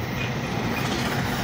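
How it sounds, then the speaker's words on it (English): A steam train locomotive approaching, a steady heavy rumble with rail clatter building at moderate distance, no talking. "Here's a steam train coming."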